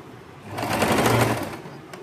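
Sewing machine stitching the seam of a yoke nighty, a steady close whirring run that swells in the middle and eases off, with no talking.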